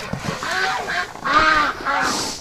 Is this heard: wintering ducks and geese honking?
yes